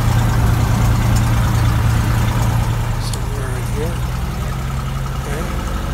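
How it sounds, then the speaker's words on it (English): Engine of a Cessna 172 running at about 1600 RPM during a magneto check, a loud steady drone with a low hum that eases slightly toward the end, heard close with brief faint voice sounds. "Turn the engine up to about 1600 RPM."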